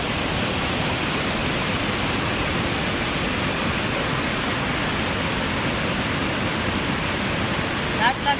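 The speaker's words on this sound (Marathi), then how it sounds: "लाट लागली लाट." Sea waves wash in at night while fishing, a dense, steady roar of surf close by that holds without a break.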